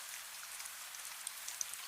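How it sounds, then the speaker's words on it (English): Steady rain falls outside a lantern-lit cafe, a soft continuous hiss with a few faint drips, quiet and even throughout. "Outside, the rain continues."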